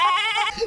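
A goat bleats once, a short wavering call that is loud and close and heard alone.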